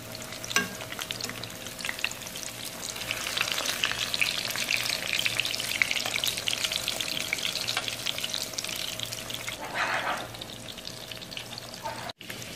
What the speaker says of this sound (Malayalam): ഇതിപ്പോൾ നന്നായി ഫ്രൈ ആയിട്ടുണ്ട്